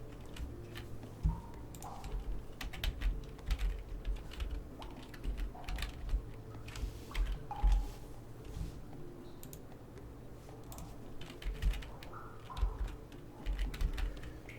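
Soft, close typing on a computer keyboard, with irregular light key clicks and taps spread across the whole stretch at low volume, alone without talking.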